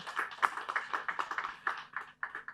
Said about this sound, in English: A mighty hand clap to our panelists.